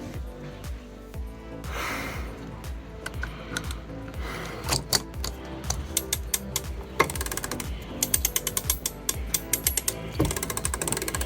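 Lewmar sailboat winch cranked with a winch handle, giving rapid ratcheting clicks in bursts that speed up and slow down, close and fairly quiet, with no talk.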